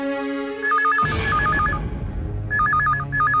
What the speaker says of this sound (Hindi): आ गया फोन